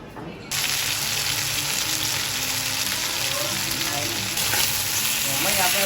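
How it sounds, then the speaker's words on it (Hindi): Potatoes fry in a home kitchen pan with a steady, close crackling sizzle that rises slightly in loudness partway through and carries on without pause. "आलू फ्राई कर।"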